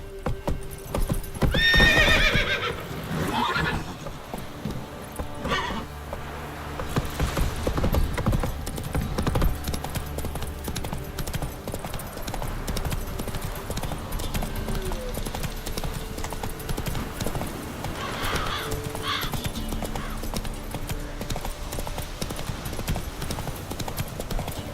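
Hoofbeats of Roach, a horse in The Witcher 3, clip-clop steadily at a gallop and trot, with a whinny near the start and faint game voices underneath.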